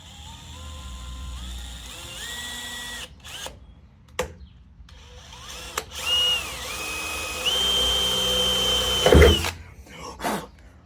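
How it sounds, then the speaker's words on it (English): A power drill bores a tiny hole in a 1987 four-wheel-drive Toyota Tercel, its motor whining and shifting pitch in several rising spurts with short pauses and clicks in between. "So we're gonna go ahead and drill a tiny little hole"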